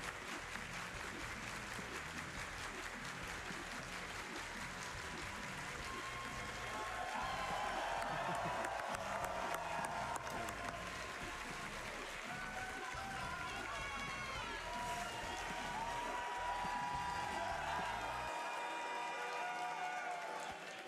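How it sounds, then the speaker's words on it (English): Sustained applause from a large live event crowd at a speedrun marathon, steady dense clapping with some cheering that swells midway, then cuts off near the end. "Y'all gonna be clapping for a minute."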